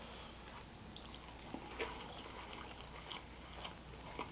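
Crunchy sushi roll topped with crab and lobster salad, eel sauce and mango sauce being bitten and chewed close up, a steady soft wet mastication with a few sharper crunch clicks spread through the chew.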